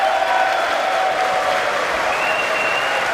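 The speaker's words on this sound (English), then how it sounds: "When Democrats applaud Trump when he asks for border security" Sustained applause in the chamber during Trump's State of the Union address, a broad, even wash of clapping from a large crowd with a faint crowd murmur, holding steady throughout.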